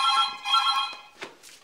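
A telephone rings with a steady electronic trill that is loud and close, repeating in pulses, with faint voices in the background.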